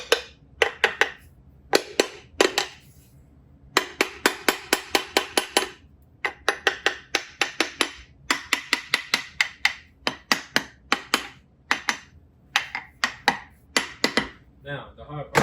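A hammer strikes supercharger coupler parts on a 700hp Jaguar XFR, giving a long run of sharp metallic blows. They fall in quick bursts with short pauses between, loud and close, and there is no talking.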